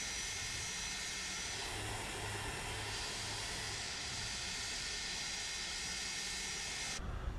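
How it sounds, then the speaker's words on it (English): MD-80 airliner jet engines in a flight simulator game hum and whine steadily at a low, even level, with a sustained high-pitched tone throughout, no talk, and a sudden shift in tone near the end. "Gotta love the MD-80. Fun airplane here."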